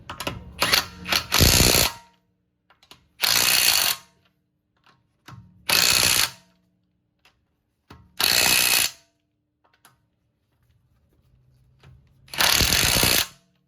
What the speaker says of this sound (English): once you notice that it's evenly threaded in, you can use the impact